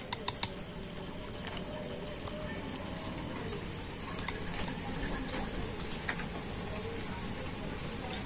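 A spoon stirs semolina batter with freshly added milk in a bowl, making a steady wet, clicking churn, opened by a few sharp taps against the bowl.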